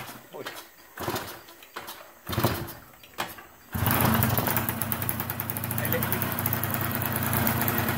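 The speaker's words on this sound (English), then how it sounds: "Spark plug is in. Let's go for the first start." A Yamaha two-stroke engine with a stock carburetor and a freshly fitted spark plug starts after several sputtering attempts, then settles into a loud, steady, buzzing run close by, with voices heard over the first pulls.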